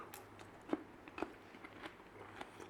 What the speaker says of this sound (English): Crunch of those onions.